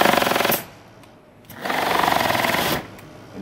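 An AcraDyne pneumatic torque tool runs in two close bursts, each a rapid buzzing rattle lasting about a second, separated by a short quieter gap and ending abruptly.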